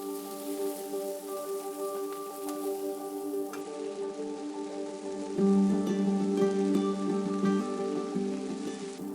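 Red onions and broccolini sauté in chili oil in a pan, giving a steady, rain-like sizzle that runs the whole time under continuous tonal background music and grows a little louder partway through.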